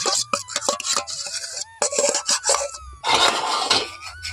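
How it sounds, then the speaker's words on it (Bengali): A spoon scrapes and rubs against a metal sieve while raw green mango juice mixture is pressed through it, giving close, rhythmic rasping strokes with brief pauses between them. "খুব ভালোভাবে কিন্তু ছেঁকে নেব এখানে কিন্তু খুব ভালোভাবে এটাকেও ছেঁকে নিয়েছি"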